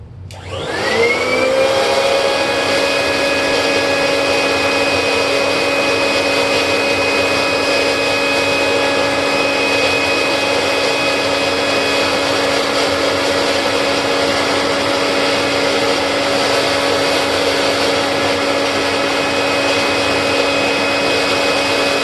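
A Royal vacuum cleaner fitted with a genuine Type B HEPA bag starts up and runs with a loud, steady, high-pitched whine that holds unchanged to the end, with no talking.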